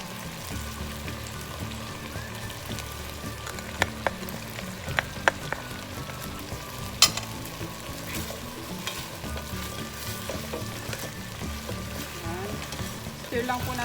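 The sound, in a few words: stirring food frying in a pan for chicken pochero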